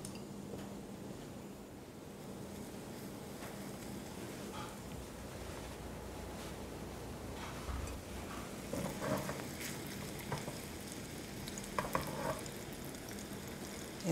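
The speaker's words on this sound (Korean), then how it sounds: "불을 낮춰서 천천히 속까지 익을 수 있도록 고기를 구워 주시고요" A ground-meat patty for a hamburger sandwich fries in an oiled pan over low heat, giving a steady, close sizzle with soft crackles and spatters throughout, and no talk.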